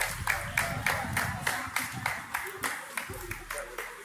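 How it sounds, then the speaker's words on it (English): Crowd at an outdoor Pride event in Pennsylvania clapping in a steady rhythm of distinct claps, moderately loud, with low crowd murmur beneath. "And they're clapping."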